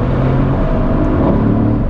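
A Mercedes C63 AMG with a turbocharged engine accelerates hard out of a tight hairpin on new tyres, its loud, dense engine roar steady and close throughout with no talking.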